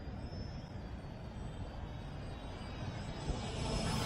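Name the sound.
Eachine E520S GPS camera drone flying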